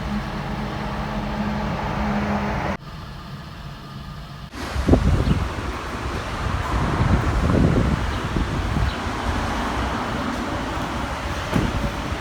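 Wind blowing outdoors on a sunny but breezy day, a steady broadband rush with gusty swells and buffeting against the microphone, continuous and fairly loud throughout with no talk.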